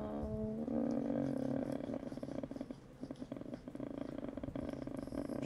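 A cat purrs in the video game Garry's Mod as a low, rumbling, continuous vibration with a slightly rough, roar-like texture. It holds steady throughout at moderate loudness, with faint background game noise.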